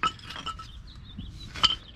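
Old metal brake pads from a 2007-2014 Chevy Suburban, Tahoe or Yukon front brake job clink together in a few light, close taps over a quiet background.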